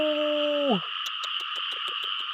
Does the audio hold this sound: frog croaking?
yes